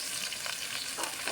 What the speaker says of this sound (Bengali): এর মধ্যে আমি এই লতিগুলোকে ঢেলে একটু ভেজে নেব